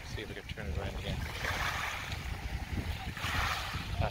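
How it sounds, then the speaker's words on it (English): Sea waves washing over stones on a windy shore, a continuous rushing wash with swells rising and falling, heard close with wind buffeting the microphone. "That sound of the sea on the stones."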